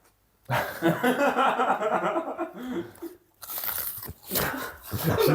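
Close, loud crunching bites into a crisp raw onion, with chewing between bites and a brief snicker near the end.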